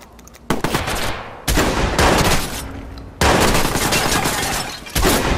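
Sustained automatic gunfire in a Watch Dogs police shootout, loud and close, coming in several dense bursts separated by brief gaps, with no speech over it.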